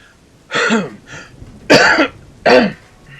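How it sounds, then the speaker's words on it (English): Three rough, harsh coughs, close and loud, spaced about a second apart with a softer throaty sound between them. "Just can't shake the cough."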